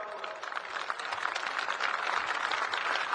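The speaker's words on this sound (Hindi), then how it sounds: "दोनों के लिए जोर से एक बार ताली बजाओ भाई।" Applause rises from the crowd at the closing ceremony of the National Games in Uttarakhand, a steady broadband patter of many hands that holds at moderate loudness throughout.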